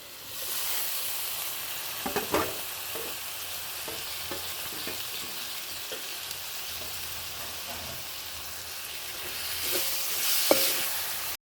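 Curry leaves and tomato fry in a pan as a continuous hissing sizzle, broken by faint scattered stirring clicks and a louder spatter near the end, close by and with no voices.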